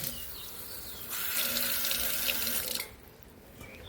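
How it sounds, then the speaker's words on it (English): Water runs from a tap into a basin at a glamping campsite, a steady hissing splash that swells for under two seconds and then stops, with quiet surroundings before and after. "Look, running water."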